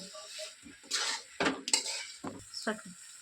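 Potatoes and green peas are stirred with spices in a pan for a vegetarian ghugni. Several loud metal scrapes and clinks of a spoon against the pan come in irregular bursts, close up, with no talk.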